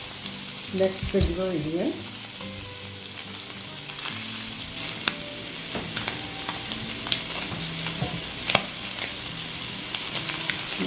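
Spam fries and browns in a pan with a steady sizzle and occasional crackles and stirring clinks, while a voice speaks briefly at the start.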